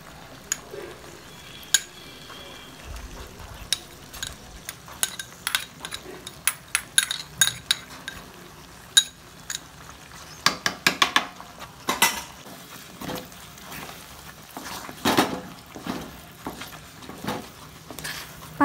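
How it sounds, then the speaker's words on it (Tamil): Moong dal is stirred into a thick, cooking thothal sweet mixture in a pot, giving a faint ongoing sizzle broken by irregular clinks and scrapes of a spoon against the pot, which cluster more densely partway through. "பாசிப்பருப்பு ஆட் பண்ணி நல்லா மிக்ஸ் பண்ணி விட்டுருங்க"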